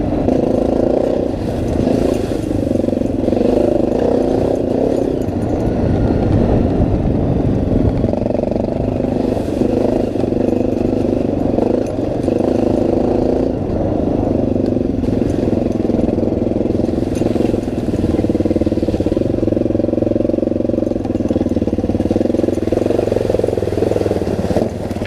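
Off-road motorcycle engine running steadily nearby, a loud throbbing drone with repeated rises and falls in revs over about twenty-five seconds, no voices.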